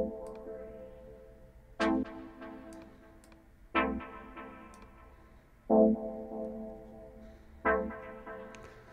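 Tech house chord stab with an LFO-automated auto filter cutoff synced to a 4-beat cycle, sustained synth chords whose tone slowly opens and closes, struck roughly every two seconds over a low pad, no speech.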